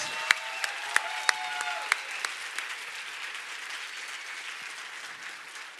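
Audience applause at the opening session of a public health ideas conference, a steady wash of clapping that fills the whole stretch at moderate level, with a few sharper individual claps standing out early on.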